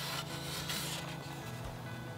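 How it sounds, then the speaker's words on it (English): A wooden bottom rail on an elevated garden bed slides into a sliding dovetail joint, making a continuous close scraping rub of wood on wood with a few small knocks. "slide it into the sliding dovetail joint with the other receiving joint"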